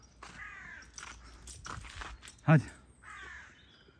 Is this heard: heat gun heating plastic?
no